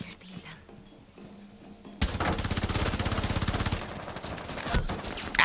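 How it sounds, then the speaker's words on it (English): Rapid automatic gunfire in a first-person shooter match, with a long sustained burst of quick, loud shots that starts abruptly, then tapers into scattered shots and muffled game effects. "Blitz actually just shot at me"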